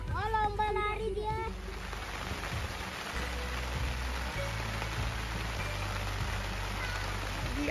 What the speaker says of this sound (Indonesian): Di asik main, tiba-tiba hujan ya